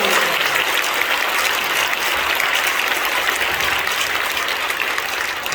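Sustained, dense applause from a church congregation at a prayer gathering honoring Korean War veterans, steady and even throughout with no break.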